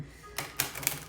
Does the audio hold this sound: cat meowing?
no